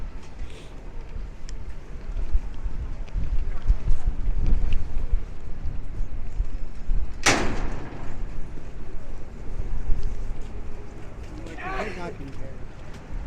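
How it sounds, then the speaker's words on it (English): Wind buffets the microphone on a busy Lower Manhattan street in New York City around midday, a loud, steady rushing roar with traffic rumble underneath and a sharp bang partway through. "Sounds of the streets down here in Lower Manhattan."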